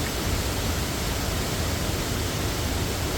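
National Creek Falls, a forest waterfall, roars as a dense, steady broadband rush of falling water, unbroken and even throughout.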